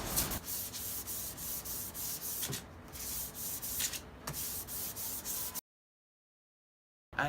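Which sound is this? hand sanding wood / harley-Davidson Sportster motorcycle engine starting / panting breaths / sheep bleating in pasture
hand sanding wood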